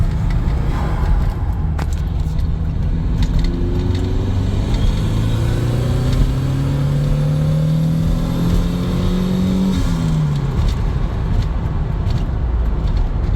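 A Porsche 924 Turbo pulls hard through the gears, its engine note climbing steadily, then dropping sharply at a shift before rising again, loud and continuous from inside the car.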